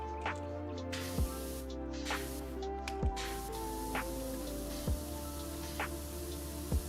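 A pressure washer sprays steadily in Powerwash Simulator, a continuous hissing water jet with soft splashing and a few brief thumps recurring every second or two, no talk.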